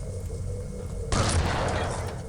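A single loud gunshot blast from the Unreal 2: The Awakening video game hits sharply partway through, followed by a sustained booming tail over a low, constant engine-like hum, with no speech.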